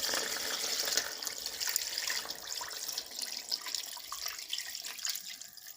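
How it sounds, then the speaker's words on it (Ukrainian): Syrup is poured over peppers in a jar while pickling them with garlic, making a steady trickling, splashing pour with small drips. It is close and continuous for several seconds, with no one talking. "І тепер заливаю тим сиропом."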